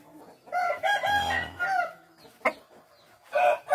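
A fighting rooster clucks and squawks close by in short, throaty bursts during conditioning, with brief quiet gaps between calls.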